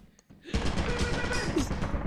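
Rapid turret gunfire in the video game Lethal Company starts abruptly after a near-silent half second and continues as a dense, loud burst of repeated shots to the end.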